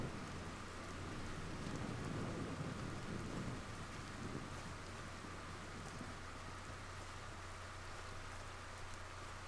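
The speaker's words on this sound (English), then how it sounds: "I love thunderstorms." Thunderstorm and rain in a Zelda video game: a continuous hiss of rainfall with a low rumble of thunder swelling early on, then steady rain continuing at moderate volume.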